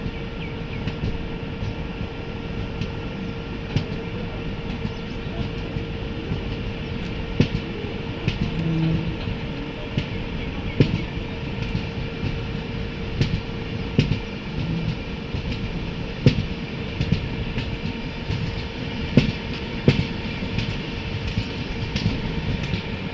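A WAP-7 electric locomotive hauling an AC special train to Coimbatore runs along the main line with a steady loud rumble and repeated rhythmic wheel clicks, heard continuously from on board without talking.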